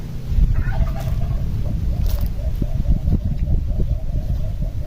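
Chickens clucking in a yard over steady low background rumble, with a few short calls repeating near and moderately loud.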